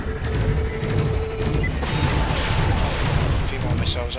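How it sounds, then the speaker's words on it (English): Missiles fired in the space combat game Elite: Dangerous, a dense rumbling barrage of booms and bursts running continuously and loudly throughout, with a voice speaking over it. "A few more missiles after him, and that'll probably finish him off"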